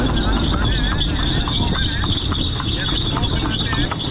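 A horse-drawn tamtam cart in Rajgir, Bihar, pulled by a mare, gives off a steady, close clip-clop of hooves, with a constant road din and people talking over it.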